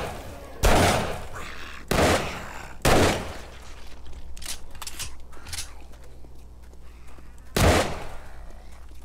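Gunfire from a gun in the survival game 7 Days to Die: four loud, sharp shots spaced irregularly, three close together early and one later, with quieter game activity and scuffling between them.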